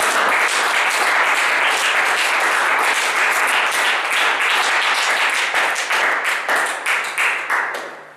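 A church congregation at a seminar bursts into sustained, dense applause that holds strong and loud for several seconds, then thins into scattered claps as it fades.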